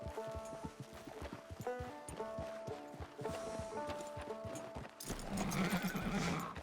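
Horse hooves clip-clop in a steady walking rhythm in Red Dead Redemption 2 Online, close and moderately loud over soft game music, with a brief whinny and a burst of louder noise near the end.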